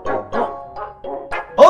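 Several dogs in a Minecraft game bark and yip in a quick run of five or six short, bright barks, close and clear with no talk over them.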